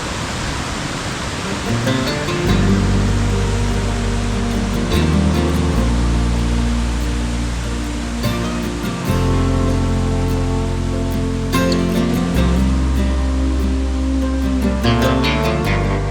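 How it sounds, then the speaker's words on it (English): Waterfalls on Lucky Creek in Barkley Sound on Vancouver Island's west coast: a loud, steady rush of falling water roaring continuously, close and unbroken, with no voices. "The waterfalls of Lucky Creek continue upstream for another mile or more"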